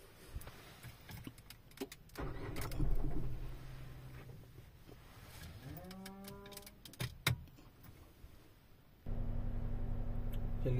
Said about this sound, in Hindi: पहले गाड़ी को स्टार्ट कर लेते हैं।